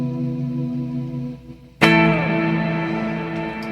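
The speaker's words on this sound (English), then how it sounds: "That's some really nice swells going on" A sustained guitar tone swells in through a Caline CP-26 Snakebite Reverb pedal, fades, then a bright chord blooms loudly at once and rings on with a lush, washy reverb tail.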